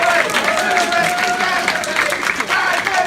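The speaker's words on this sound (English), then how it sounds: "come on, round of applause" An improv comedy show audience applauds steadily, a dense, loud wash of clapping that runs the whole time, with voices and a sustained tone faintly mixed in.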